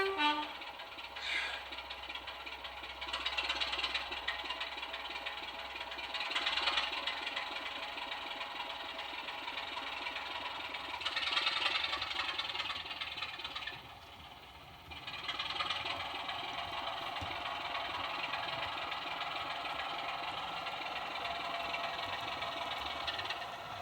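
A model railway locomotive driven by an MX645R sound decoder through a small 26x20x8 speaker gives a continuous diesel-like engine drone with a short horn toot early and brief dips and swells, heard alone throughout.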